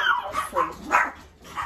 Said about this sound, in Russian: О, собачки.